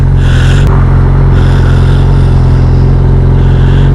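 A motorcycle passing by on a road, its engine note swelling and fading in two brief surges over the steady loud drone of the rider's own running engine.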